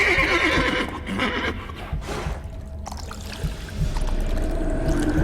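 A horse in The Witcher 3 gives a loud, drawn-out neigh over splashing water and hoof sounds, followed by wet sloshing movement with no talking.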